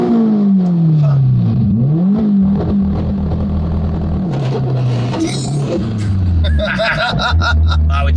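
A 600 HP Subaru VB WRX on a 2022 build launches hard, its engine revving loudly in rising and falling sweeps with gear changes, close and dominant, with voices babbling underneath.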